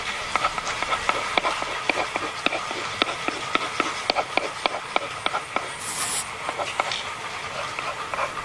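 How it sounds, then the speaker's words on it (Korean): Many students in an exam room drawing the same figure at once, pencils tapping and scratching on paper in an irregular but steady repeating rhythm of soft ticks over a quiet room hiss. "모두가 같은 것을 동시에 그리기 시작하면서 나는 소리죠."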